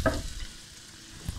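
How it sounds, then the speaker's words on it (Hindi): Onions sautéing in butter, a brief quiet sizzle opening with a quick stir of a utensil and a soft scrape near the end, close and with no talking. "अनियंस को हल्का सा सोते करेंगे"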